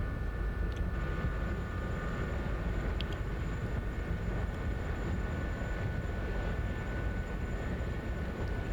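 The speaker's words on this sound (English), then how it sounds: "Helicopter is flying by himself with the trim only" A Gazelle helicopter in the DCS flight simulator cruises on trim alone, giving a steady, unbroken engine and rotor drone with a faint high whine running throughout.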